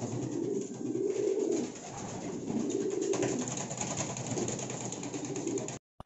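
Pigeons coo softly after a bath, low murmuring calls rising and falling over a steady background hiss, fairly close, with no people talking.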